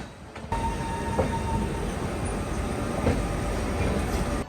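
Paschim Express train passing nearby, a continuous loud rumbling roar of rolling wheels and carriages with faint rhythmic clacks, heard from a moving train.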